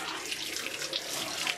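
Tap water running steadily into a sink during a grooming bath for a Schnauzer Yorkie, a close, continuous hiss and splash with slight surges and no talking.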